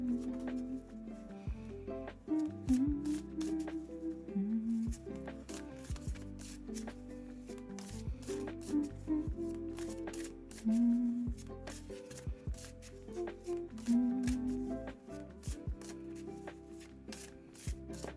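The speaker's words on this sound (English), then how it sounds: "Go ahead and shuffle." Tarot cards being shuffled by hand during a reading: soft, repeated riffling and sliding bursts with sharp flicks, close and fairly quiet, continuing in irregular rhythm over a low background hum.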